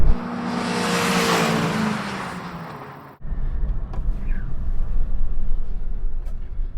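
A Volkswagen Golf GTI Mark IV races along a straight against other GTI generations, its engine roaring loud and close before cutting off abruptly, followed by a lower rumble and distant engine noise.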